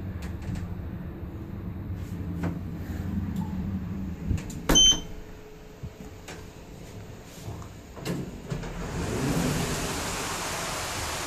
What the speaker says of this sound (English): I can hear the motor. The motor sounds actually pretty great.